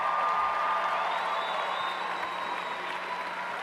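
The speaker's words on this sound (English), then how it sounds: "Let's give them a round of applause." Applause from the audience at the Stony Point high school graduation, an even wash of many hands clapping that holds steady and slowly fades a little, with a faint whistle-like tone running through it.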